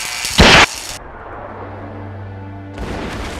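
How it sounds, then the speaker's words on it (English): A single heavy WWII artillery shell boom bursts out, followed by a low rumbling drone and then a second loud blast rolling in near the end. "he began to hear the roar of shelling in the area"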